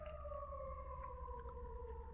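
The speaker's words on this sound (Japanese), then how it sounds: "大丈夫か、外。 めっちゃサイレンになってるけど。" A siren wails outside, a faint, steady, slowly falling two-tone howl heard from a distance over a low background rumble, with no one talking.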